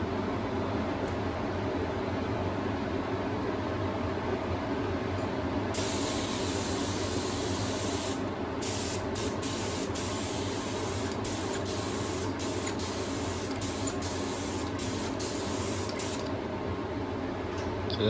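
A spray gun lays clear coat onto vintage motorcycle shock absorbers, giving a soft continuous hiss in short bursts over a steady background, with small clicks between passes.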